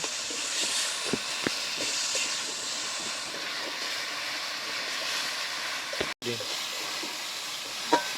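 Spiced masala for Bengali egg tadka frying in a pan, a steady close sizzling hiss broken by scattered scraping clicks of stirring, with one brief dropout near the end.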